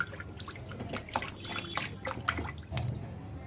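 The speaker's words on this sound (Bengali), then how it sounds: "মাছটা ধুয়ে নিই" Raw sheatfish being washed under water, with close dripping, splashing and trickling sounds as hands work the fish, irregular and moderately loud.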